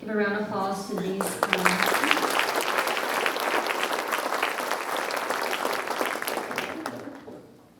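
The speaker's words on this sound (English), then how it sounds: "Give a round of applause to these" A voice speaks briefly before an awards-night audience breaks into loud, sustained applause for senior scholarship recipients, dense clapping that swells quickly and fades toward the end.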